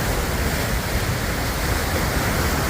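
Ice-cold lake water roars out of the bottom outlet of Philpott Dam, a dense, continuous rushing torrent that fills the whole space, loud and close with no pauses.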